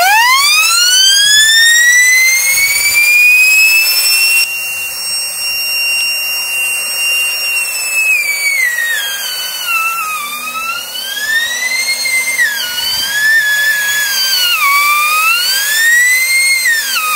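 Titanium turbocharger spinning at high speed while the last of a 40 kg bag of sand is poured in, a loud piercing siren-like whine that rises, then wavers and dips repeatedly as the sand hits the wheel.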